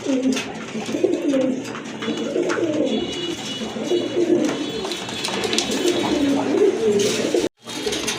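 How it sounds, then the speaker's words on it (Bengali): Pigeons coo in soft, repeated throaty phrases close by, a steady run of low calls with brief pauses before a short drop-out near the end. "ডান পাশেরটা হচ্ছে মাদি কবুতর, বাম পাশেরটা হচ্ছে নর কবুতর।"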